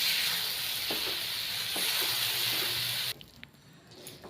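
Raw papaya stirred into hot caramel in a pan over a medium flame gives a steady loud sizzle with occasional scraping taps, then drops to a quieter hiss.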